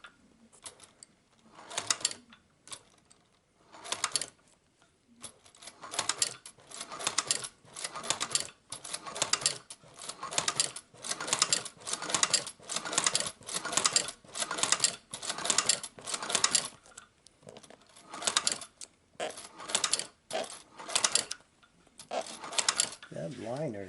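A shoe patcher sewing machine stitching custom Gucci-style Vans sneakers runs close up in rapid mechanical bursts, stopping and starting repeatedly as the work is repositioned.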